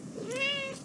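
A cat sitting in someone's lap gives a single short, clear meow, close by and alone, with no voices over it.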